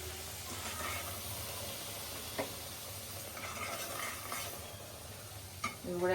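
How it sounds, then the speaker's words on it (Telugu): Bitter gourd pieces, already fried, being stirred in hot oil in a pan, giving a steady sizzle with scraping stir strokes and a few utensil clinks near the end, with no talking. "ఆయిల్లో వేసుకొని ఒకసారి మిక్స్ చేసుకుందాం తర్వాత మనం ఫ్రై చేసి పెట్టుకున్న కాకరకాయ ముక్కలు"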